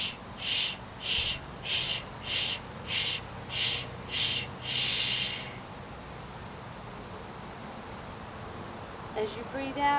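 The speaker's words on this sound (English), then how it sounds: "breathing out nice and strong." Strong, forceful exhalations during a sports yoga pose, seven rhythmic breathy puffs in a steady pattern followed by one longer exhale, close and clear, with faint sounds afterward.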